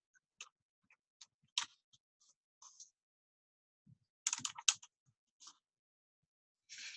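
Light, sparse keystrokes on a computer keyboard come through as faint, irregular clicks, sometimes singly and sometimes in short clusters, in an otherwise quiet room.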